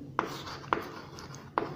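Chalk or marker writing on a board in a physics lecture, three short sharp taps or strokes evenly spaced against a quiet room, close and faint.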